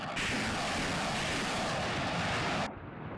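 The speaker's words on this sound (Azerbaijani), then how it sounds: "Bu, İsrail tərəfindən istehsal olunmuş reaktiv yayılım atəş sistemidir." An Israeli-made LAR-160 multiple rocket launcher firing 160 mm rockets gives a loud, continuous broadband roar for about two and a half seconds, then cuts off abruptly to a lower rumbling tail.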